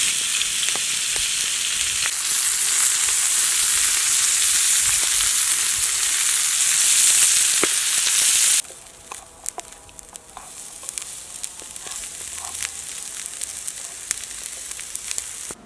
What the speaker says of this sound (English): So I'm just searing the meatballs now before I put them into the Dutch oven.